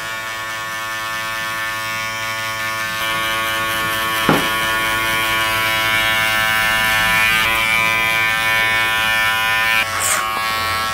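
Electric hair clippers set to a 1.5 guard trim around the ears during a men's haircut, a loud, steady close buzz running continuously with slight changes in pitch as the blade moves, no speech.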